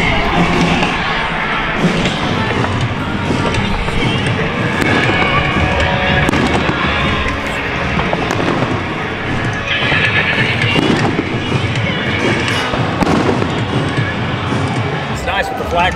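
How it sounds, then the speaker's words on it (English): Repeated bangs and crackling booms from fireworks going off outdoors near a fire department, dense and continuous, with people talking over them throughout. "Fireworks out there, mate."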